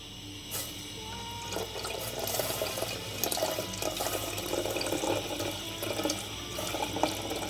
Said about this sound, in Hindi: अब मैं इसमें मिल्क डालूंगी